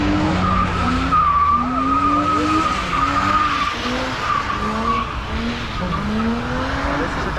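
Cars drift at a street car event, their tires squealing and skidding loudly in long, wavering screeches over roaring engines, continuous and fairly close throughout.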